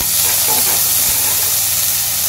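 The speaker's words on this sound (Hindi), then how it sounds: "ये देखिए हल्का सा सोते करेंगे इसको" Chopped garlic, one spoonful, sizzles steadily in hot oil in a pan, a close, continuous hiss with no one talking over it.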